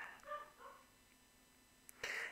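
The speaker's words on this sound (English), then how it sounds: "sorry if you can hear that in the background, the dog's barking" A dog barks a few times in the background, faint and distant, as short separate yaps spread through a quiet room.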